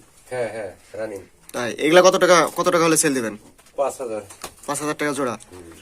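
Silver Serazi pigeons coo in repeated soft bursts at a pigeon farm, close and clear, while people talk alongside them.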